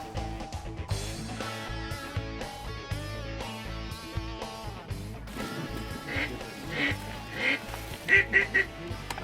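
Ducks quack repeatedly over a steady background din, the calls growing louder and more frequent toward the end.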